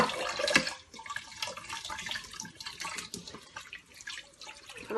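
A cooking pot being washed under a running kitchen tap, water splashing and gushing steadily into the pot and sink up close, with scrubbing rattles and no talk.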